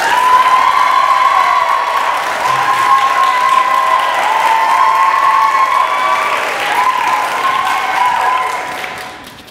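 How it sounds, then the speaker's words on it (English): A school audience applauds and cheers for a graduating senior at a senior speech, steady dense clapping with a few whoops and shouts layered on top, loud and continuous before tapering off at the end. "everyone give a big round of applause and a loud woo pig for Hilary Blevins Norcross"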